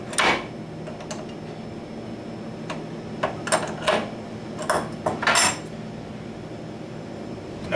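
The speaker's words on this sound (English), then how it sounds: "Very simply, you just loosen the tie rod nuts on both ends." A wrench loosens the tie rod nuts on a laboratory burette from a permeability or triaxial testing setup, giving a handful of sharp metallic clicks and scrapes in irregular bursts against a quiet room.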